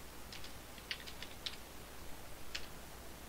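Quiet, sparse keystrokes on a computer keyboard, a few separate clicks spaced irregularly over a low background hiss, with no talking.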